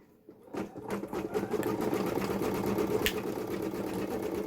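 An embroidery sewing machine stitching a photo starts up after a moment of quiet and runs at a fast, even needle rhythm, close and steady to the end.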